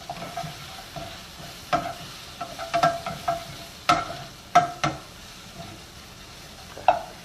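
Shrimp with squash and eggplant sizzle while browning in a pan for a summer pasta dish, a soft continuous fry punctuated by irregular clattering stirs and scrapes, close and without talk.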